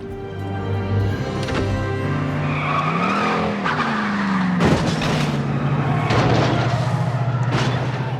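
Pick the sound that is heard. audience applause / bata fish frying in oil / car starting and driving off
car starting and driving off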